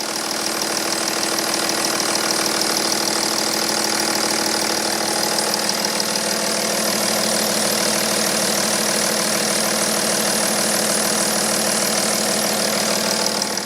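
A BMW M57 diesel engine idles with a steady mechanical clatter and hum. A faint belt squeak runs through it, and no one speaks.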